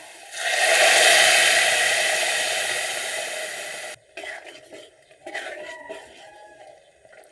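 Red-fried chopped onion tempering is tipped into a pot of masoor dal with potato, setting off a loud burst of sizzling that hisses strongly, then fades. Quieter stirring and scraping follow with brief clatters.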